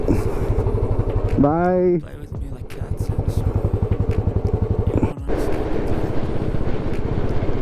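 A motorcycle rides along mountain roads toward Dehradun, its engine loud and close with a steady throbbing putter and a short rising rev early on. A voice speaks briefly.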